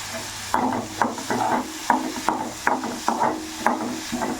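Coriander, cumin and fenugreek seeds sizzling in hot oil for tomato chutney, with a spoon scraping the pan in a steady rhythm of about two strokes per second over a low frying hiss.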